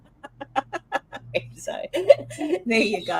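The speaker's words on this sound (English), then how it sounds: "apologies for the squeaking birds" Pet birds clucking in a chicken-like way and squeaking, a run of short evenly spaced clucks followed by mixed chirps, close by, partly under and between a person's speech.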